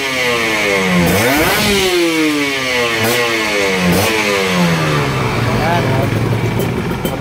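Kawasaki KR150 two-stroke motorcycle fitted with an AHT exhaust pipe, revving repeatedly in loud rising and falling sweeps, with sharp blips near the start and a sustained climb toward the end, close and continuous.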